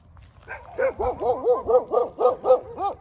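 A street dog barks repeatedly in a quick, steady rhythm, about ten sharp barks fairly close by, with faint low rumble underneath.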